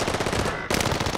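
Rapid automatic gunfire from a zombie shooter video game, two loud bursts of dense shots split by a brief gap, with no talking.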